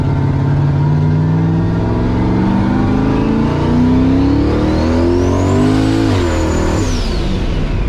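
A turbocharged Cutlass with a 5.3 engine accelerates hard in low gear, its loud, steady engine roar climbing in pitch with a rising turbo whine, then easing briefly after a shift near the end, heard from close by.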